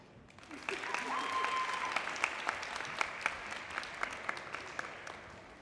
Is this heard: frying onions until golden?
no